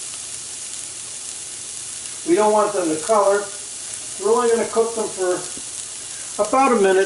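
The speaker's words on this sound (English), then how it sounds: "for just a minute in a dry pan to release the aromatics." Aromatics warming in a dry pan for a filet special produce a continuous soft sizzle and hiss underneath someone speaking in short phrases.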